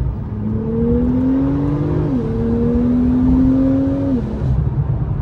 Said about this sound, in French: Oh, le turbo. Oh, comment ça souffle.